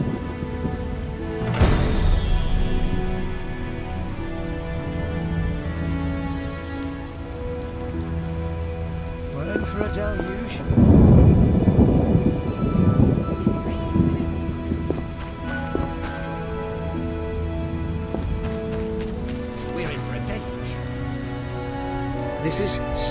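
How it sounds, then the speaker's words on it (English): Heavy rain and thunder in The Witcher video game, a steady dense downpour drumming throughout, with a louder rumbling surge in the middle and faint talk and music beneath. "This is serious rain."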